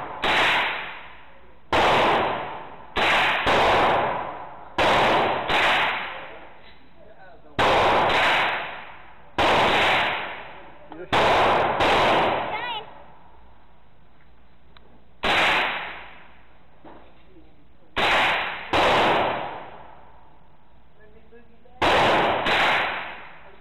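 Gunshots at a shooting range, a long series of sharp, loud, close reports, some in quick pairs and others spaced a few seconds apart, each followed by a short decaying echo.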